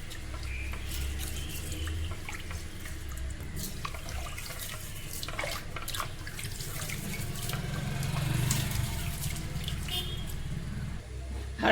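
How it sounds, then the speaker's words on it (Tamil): Millet rice and lentils being rinsed by hand with water, a steady close running-tap and sink-washing wash with soft swishing and squishing of grains, no talking. "நல்லா தேய்ச்சி கழுவிட்டு ஒரு 2 வாட்டி கழுவினா போதும்."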